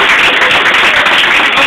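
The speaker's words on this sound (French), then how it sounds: "Je crois que ça mérite un petit applaudissement quand même." An audience at a sponsored swimming event speech applauds in a dense, steady, loud wash of clapping with no pauses.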